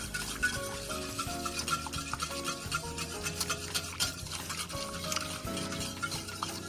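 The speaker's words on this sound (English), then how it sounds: "Give them a good stir to mix them in." A spoon stirs vanilla seeds into milk heating on the stove for crème anglaise. Soft, repeated scraping and clinking sounds up close, steady throughout, with gentle sizzling from the hot pan underneath.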